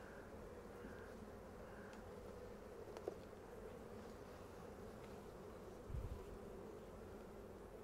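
Honeybees in a beehive at Lyon during an inspection, a continuous faint droning buzz of many insects with a few brief thumps and knocks mixed in.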